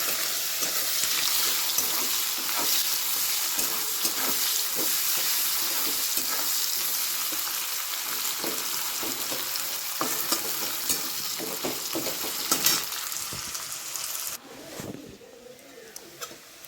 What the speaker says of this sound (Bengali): পেঁয়াজ কুচিটা ভালো করে ভেজে নেবো